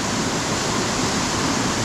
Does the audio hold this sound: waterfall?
yes